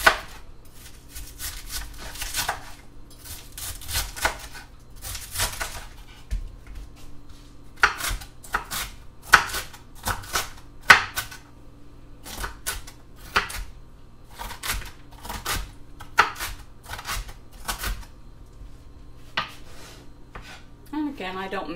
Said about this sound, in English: Then I'm going to just cut up very, very small some of this red cabbage.